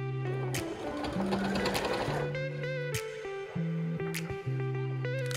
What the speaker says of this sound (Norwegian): så nå skal jeg sy langs den kanten her, og egentlig da rundt hele da